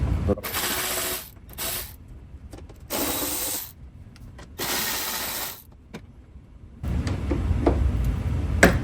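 A ratchet clicks in quick bursts while 10 mm bolts are turned on a 2009 Toyota Corolla during bumper removal, with several loud rattling runs separated by short pauses and lighter mechanical handling noises at close range.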